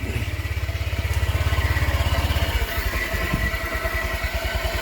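A motorcycle engine idles steadily close by with no throttle applied, a fast even putter that drops to a slightly slower, rougher beat partway through, with no talk.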